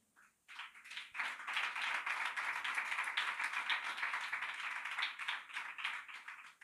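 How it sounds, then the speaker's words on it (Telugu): Congregation applauding during a Sunday service at a Telugu church, a dense, steady wash of many hands clapping that starts abruptly and holds at even loudness to the end. "ఈ చప్పట్లకి ఒక్క దోమ కూడా సావదు."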